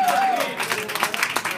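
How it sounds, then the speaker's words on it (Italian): Audience applause at a live rock concert in a small café, a broad burst of clapping and crowd noise that follows a sliding tone and carries on busily to the end. "Un grande applauso."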